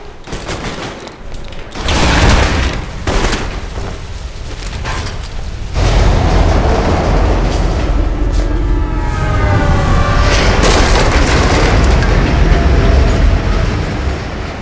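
A train roars past in the video game Alpha Protocol, a loud sustained rumble with rattling clatter that swells after a burst of sharp bangs and holds steady to the end.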